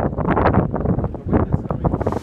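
Strong wind gusts buffet the microphone on the lakeshore at Wisconsin Point, a loud, rough, continuous rumble with surging swells.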